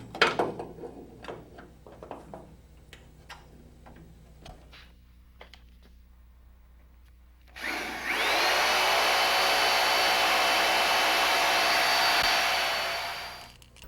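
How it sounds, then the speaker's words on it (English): A power drill whirs steadily for several seconds, boring 3/16-inch bolt holes through a support tube and bulkheads on a Rotorway Exec 162F kit helicopter, after scattered clicks and clamp knocks. "drilling the 4 3/16" bolt holes through the support tube and bulkheads"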